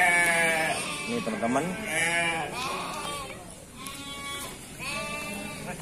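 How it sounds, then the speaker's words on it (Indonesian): Kacang sheep bleat repeatedly at a busy livestock market in Cilongok, Banyumas, several overlapping wavering calls close by, with someone talking over them. "domba capek, domba kacangan ini guys ya"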